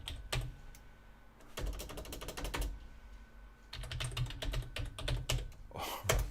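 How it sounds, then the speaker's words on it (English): Quick bursts of typing on a computer keyboard, clusters of sharp close key clicks separated by short pauses, with no talk. "I'm gonna type in cybersalt."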